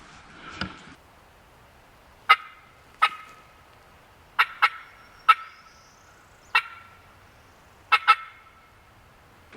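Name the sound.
wild turkey gobbling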